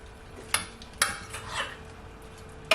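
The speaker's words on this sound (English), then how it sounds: "now what I'm gonna do, I'm just gonna flip it over" Baked chicken being turned over in a metal pan, with a few sharp clinks and scrapes of utensil against the pan, close and fairly quiet between the knocks.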